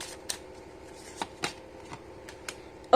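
Tarot cards are handled and shuffled in a quiet room. Soft papery riffles and a few sharp flicks come close and intermittently, with brief pauses between them.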